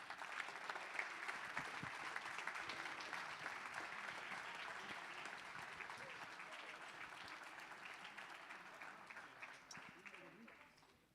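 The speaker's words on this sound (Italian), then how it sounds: "li accompagniamo con un applauso" Sustained applause rises from the audience at a Veneto Paralympic sports gala as guests leave the stage, a steady dense wash of clapping that slowly tapers off near the end, with a voice faintly under it.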